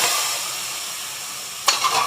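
Ridge gourd bharta stirred in a pan gives a steady soft sizzle, with a short, sharp scrape of the spoon near the end.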